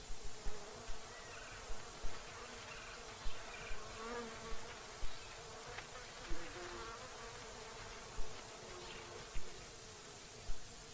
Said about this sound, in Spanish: observamos a esta abeja visitando el interior del saguaro